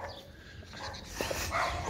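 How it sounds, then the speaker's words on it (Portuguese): Street dogs in Catalão, Brazil, bark outdoors at a distance, several overlapping yaps and barks rising toward the end over a noisy ambient background. "O Catalão tem muito cachorro de rua."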